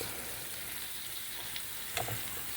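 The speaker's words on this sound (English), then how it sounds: "Make sure you get a good sear on those shrimp." Shrimp sear in a hot pan with a quiet, continuous hiss and a couple of faint utensil clicks near the end, heard alone at low volume.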